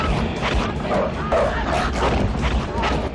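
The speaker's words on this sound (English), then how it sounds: "Yay! Dogs!" Dogs barking and yipping in a film scene, several overlapping barks in quick succession over a steady rumbling background, fairly loud and close.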